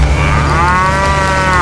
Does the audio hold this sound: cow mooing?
yes